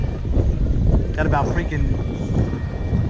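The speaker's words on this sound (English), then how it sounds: "30-mile-per-hour gusts coming at me here" Strong 30-mile-per-hour wind gusts on a lake, a loud steady roar buffeting the microphone, with someone talking over it.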